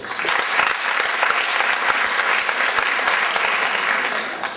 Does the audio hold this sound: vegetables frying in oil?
no